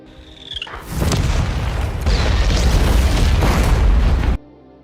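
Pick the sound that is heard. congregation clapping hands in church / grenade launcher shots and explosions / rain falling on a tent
grenade launcher shots and explosions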